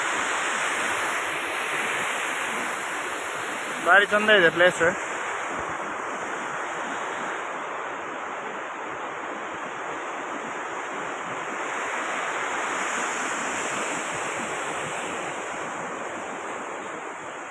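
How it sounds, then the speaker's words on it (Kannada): River water flows steadily at Mallalli waterfalls, a constant loud rushing wash like surf that runs throughout. Someone speaks briefly near the start over the water. "ಹೇಗೆ ನೀರು ಹೋಗ್ತಾ ಇದೆ."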